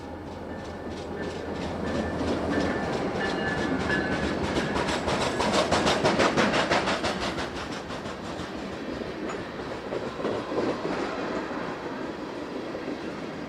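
A Kansas City Southern train led by F units rolls past on the Beaumont Subdivision, a steady loud rumble with rhythmic clickety-clack of wheels over rail joints that swells toward the middle and then eases off.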